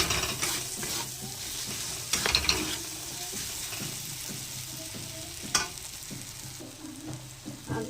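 Masala being stirred and sautéed in a pan, a soft sizzle broken by repeated scraping strokes of a spoon against the pan and occasional louder knocks, fairly quiet and close.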